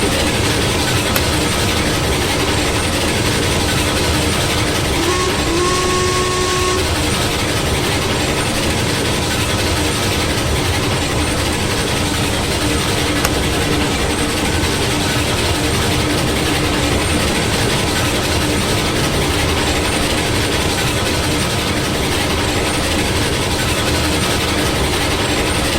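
A Heisler steam locomotive labours up a steep slope in the Railroads Online game, a loud continuous low engine rumble and mechanical drone that runs unbroken throughout, with no talking.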